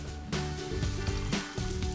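Rockfish coated in pancake batter mix frying in hot oil, a steady loud sizzle with crackling pops and bursts of spattering, close up with no talk.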